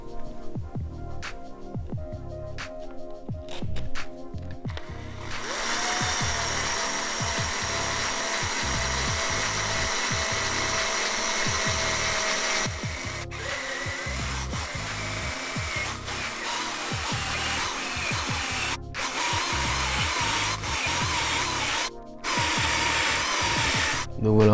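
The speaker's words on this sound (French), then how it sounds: "je vais utiliser donc les rimeurs et une perceuse" Power drill spinning reamers inside a fishing rod blank, a steady whirring grind running almost continuously with brief stops and restarts, close and fairly loud, with someone speaking intermittently in between.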